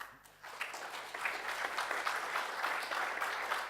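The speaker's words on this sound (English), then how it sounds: "Please give him an applause." An audience at the SDRA 2017 software-defined radio conference breaks into soft, steady applause for a GNU Radio workshop host, a quiet wash of many hands clapping at a distance.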